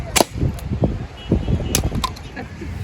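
Toy gun firing at balloons at a Chennai street stall, several sharp cracks and pops scattered over about three seconds amid crowd chatter and street noise.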